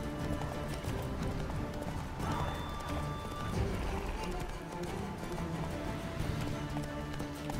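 Horse hooves of Roach in Witcher 3, a steady clip-clop running continuously at a moderate distance beneath a dense game soundscape, with someone talking faintly over it.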